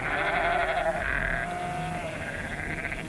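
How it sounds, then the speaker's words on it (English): Soay sheep of a feral flock on St Kilda bleating, a few wavering calls over a steady outdoor background, moderately distant. "Big horns are also a feature of these Soay sheep,"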